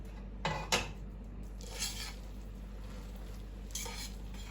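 A utensil scraping and clinking against a metal pot in a few soft stirring strokes through spaghetti in tomato sauce, faint and close, over a low steady hum.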